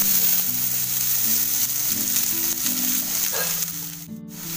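Chopped cabbage hits tempering oil with mustard seeds and cumin, giving a loud, steady sizzle up close that fades toward the end, with a tonal hum underneath.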